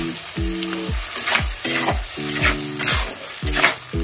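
A paste of ginger, cumin, coriander and Kashmiri chili powder fries in oil in a pan, hissing steadily while a spatula scrapes and knocks against the metal in quick, regular strokes, close and fairly loud.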